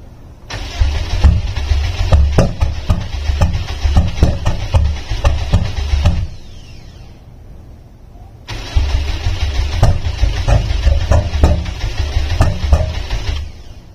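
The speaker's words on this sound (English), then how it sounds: "I have no idea why it's not starting. It sounds like it wants to." A Subaru WRX that has sat for eight months cranking without starting, two long bursts of rapid, rhythmic starter churning and engine chuffing, each lasting several seconds, separated by a quiet pause, loud and close.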